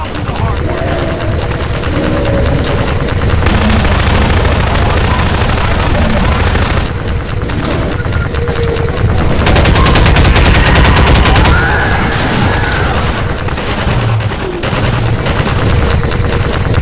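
Sustained gunfire in Half-Life 2: Episode Two: dense, loud rapid automatic bursts with booming impacts that continue almost without pause, mixed with game music and sound effects.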